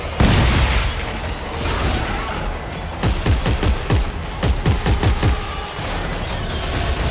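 Gunfire in the sci-fi horror video game Dead Space 3: a loud run of rapid, sharp shots in bursts, closely spaced near-field blasts over a dense rumbling game background, with no talk.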